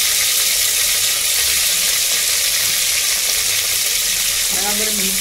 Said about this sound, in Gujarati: હવે તેની અંદર આદુ નાખી દઈશું, લીલા મરચાં નાખી દઈશું અને ડુંગળી નાખી દઈશું.